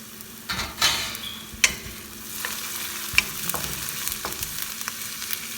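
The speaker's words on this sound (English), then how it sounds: "I'm going to add my chilies, my ginger garlic paste, and let it cook for another minute." Chilies and ginger garlic paste frying in a pan for a tofu and eggplant dish, a close sizzle broken by scattered pops and stirring scrapes.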